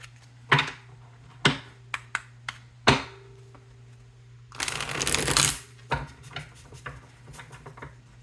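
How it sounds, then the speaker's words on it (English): Tarot cards are handled with several sharp taps and flicks, then a brief riffling burst as the deck is shuffled, close up and quiet otherwise. "let's do one more shuffle here"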